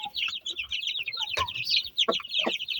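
A flock of chickens and roosters kept with young chicks, busy overlapping clucking and chirping close by, with a few louder squawks breaking through.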